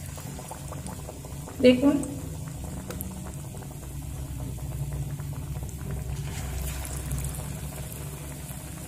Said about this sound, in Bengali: এই একইভাবে সব আলুর চপগুলো ভেজে নিয়ে আমি ফিরে আসছি।